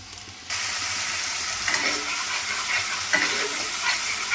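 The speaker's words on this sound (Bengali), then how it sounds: "মশলাটা দিয়ে ভালো করে কষতে থাকবো।" Ground spice paste hits hot oil with sugar while dhokar dalna is being made; a loud sizzle bursts in after a quiet half second, then keeps up with stirring scrapes and crackles.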